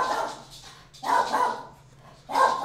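A dog barks three times, close and loud, with short pauses between each bark.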